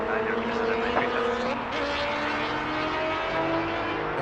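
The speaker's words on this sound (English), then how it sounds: "coming in is an A321 LR from Faro Air Transat" An Air Transat Airbus A321LR airliner arriving from Faro at Toronto Pearson, its engines a steady broad roar with tonal whine throughout, moderately loud and continuous, with a voice faintly present underneath.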